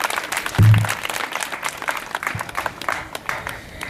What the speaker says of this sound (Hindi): उनकी हौसला अफजाई के लिए ज़ोरदार तालियां तो बनती हैं